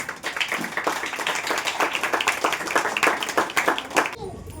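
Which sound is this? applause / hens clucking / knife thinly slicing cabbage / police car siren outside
applause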